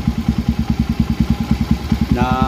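A motorcycle fitted with an open-pipe exhaust idles close by, giving a loud, steady, rapid chugging pulse, and a rising whine enters near the end.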